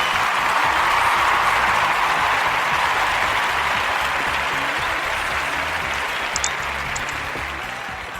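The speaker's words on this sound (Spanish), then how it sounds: "por supuesto, un aplauso al Señor" An audience at a church service applauds for the Lord: dense, steady clapping throughout that slowly fades toward the end.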